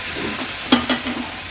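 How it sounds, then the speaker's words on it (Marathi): Masala paste stirred and fried in oil for Agri-Koli style fish, a steady sizzle with a couple of distinct spoon scrapes against the pan, close and moderately loud. "आता हे वाटण व्यवस्थित तेलावर मिक्स करून घेते"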